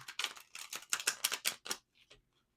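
A quick run of about ten crisp, riffling tarot card snaps in rapid succession, close and fairly loud, then a few soft taps.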